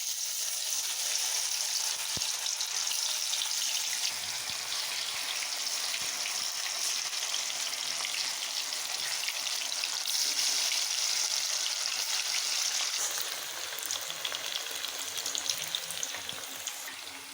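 Cauliflower pieces frying in hot oil in a pan, a steady dense sizzling hiss that holds evenly throughout, close and fairly loud with no talking.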